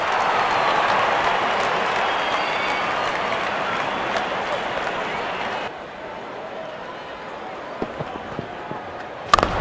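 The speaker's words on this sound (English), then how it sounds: "Wonderful 50 and the crowd applauds" A cricket crowd at an India vs South Africa 5th T20 applauds a batsman's fifty, a dense, steady roar of clapping that drops to a quieter level partway through, with a sharp burst near the end.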